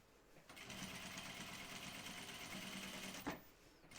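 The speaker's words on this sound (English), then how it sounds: "So I'm just sewing along that seam there." A sewing machine runs a steady, even stitching burr along the seam of a jean skirt, close and moderately loud, with no voices, and a short clack near the end.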